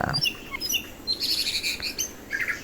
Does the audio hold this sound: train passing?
no